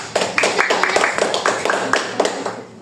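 Children in a classroom clap together in a quick, steady rhythm of a dozen or so close, crisp claps, with a teacher's voice faintly underneath.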